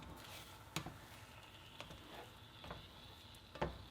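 Scrambled eggs cook quietly in a pan, a soft low sizzle with faint scraping strokes and occasional light clicks as the egg is pushed in from the sides.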